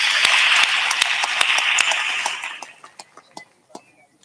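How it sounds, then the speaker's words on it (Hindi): An audience at a rural satsang gathering breaks into dense, sustained clapping that thins out into a few scattered final claps and fades away. "उनके लिए भी ताली बजाते हैं।"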